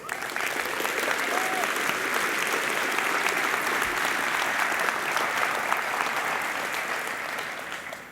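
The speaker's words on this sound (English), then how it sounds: "we're just going to give all those people a round of applause" A conference audience at a PyCon keynote gives a sustained round of applause, a dense even wash of clapping that holds steady for several seconds before tapering slightly at the end.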